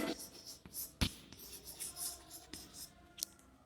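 A pen writes the impulse equation on paper, with soft scratchy strokes and small taps that come in short irregular bursts, faint and close.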